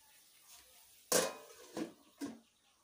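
A metal lid set onto a cooking pot in a home kitchen, one loud close clank followed by two softer settling clinks, with quiet in between.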